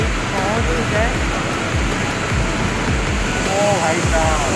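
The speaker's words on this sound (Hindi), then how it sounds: "हम झरने के करीब पहुंच गए।" Chitrakoot waterfall in Chhattisgarh roaring close by as a loud, steady wash of rushing water, while someone speaks briefly over it.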